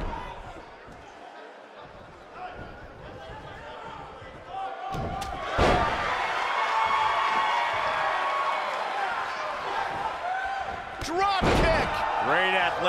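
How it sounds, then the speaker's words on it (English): Heavy thuds of a wrestler slammed onto the ring mat during an NWA Canadian Heavyweight Championship match, a couple of sharp impacts over a constant crowd roar that swells loudly, with commentators talking. "Slammed with authority."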